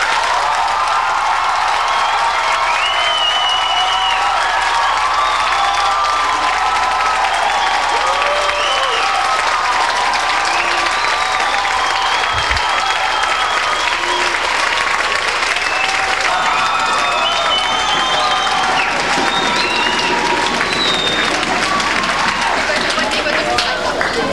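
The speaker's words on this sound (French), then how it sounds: "Je vous demande donc à tous de lui donner une bonne main d'applaudissement" A large crowd at a 1995 high school graduation show gives loud, sustained applause, a dense continuous roar of clapping with some cheering and crowd babble mixed in throughout.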